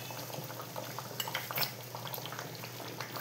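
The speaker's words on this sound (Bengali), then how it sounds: "দারুণ ফুটছে কিন্তু।" Sour curry boiling in a pot, a faint bubbling simmer with a few soft clinks of utensils and no voices.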